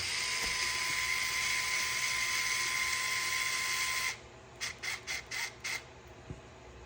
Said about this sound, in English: Get my electric screwdriver here. The magnet tip.